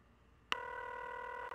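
A phone call rings out in the X-Files video game: one steady electronic ring tone lasting about a second, then a short blip, with no talk over it.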